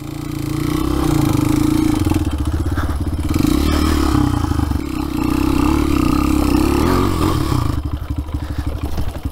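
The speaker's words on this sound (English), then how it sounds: "Oh, man, I lugged it up. Oh, I was in third gear." A Honda XR dirt bike lugs along a trail in third gear, the engine thumping low and strained with clattering chassis noise, close and continuous throughout.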